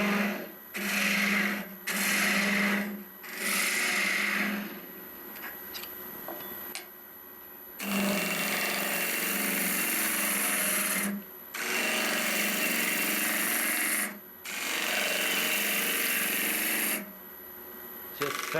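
Woodturning tool cutting an end-grain natural-edge vase on a lathe, loud rough scraping bursts of a few seconds each, broken by short pauses, over a steady motor hum.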